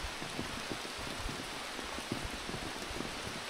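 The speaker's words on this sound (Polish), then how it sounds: "No chyba, że przestałoby padać na 10 minut." Rain pattering on an open umbrella outdoors, a dense, continuous hiss of drops with small irregular taps close overhead, steady and moderately loud throughout with no talking.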